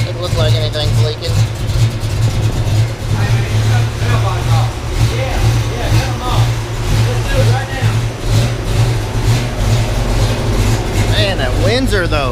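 The Ford Windsor V8 in a 1985 Mustang GT foxbody idles loud and close with a steady, throbbing rumble, running slightly rich. Talking is heard over it.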